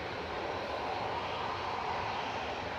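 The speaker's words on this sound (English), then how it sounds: "this is Cathay Pacific A350-900 BLQC, 3-year-old aircraft, just about to touch down" A Cathay Pacific A350-900 airliner on final approach about to touch down at Manchester Airport, a steady broadband jet roar holding at an even, moderately loud level with no voices.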